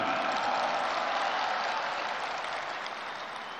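At a NasDem party political rally, an audience claps for special envoys from Partai Golkar, a broad, moderately loud wash of applause that slowly fades toward the end.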